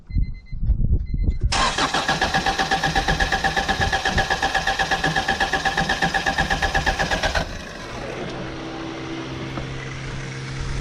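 A B20 VTEC car engine cranks with a fast, loud, rhythmic starter chug for several seconds. It then catches and settles into a lower, steady idle, heard up close.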